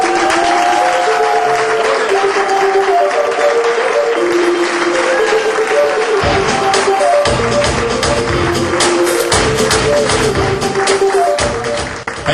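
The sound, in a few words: audience applause welcoming guest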